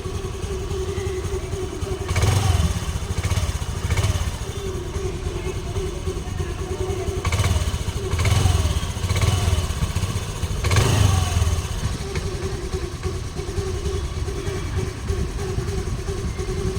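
A motorcycle with 42,000 km on it idles close by in a steady, throbbing rumble, with a few brief swells in revs along the way.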